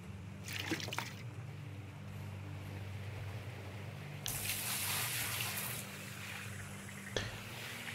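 Water from buckets pours into a dug hole at an outdoor gold-prospecting site, a few broadband gushing splashes, the longest lasting over a second, over a low steady hum, with a short sharp knock near the end.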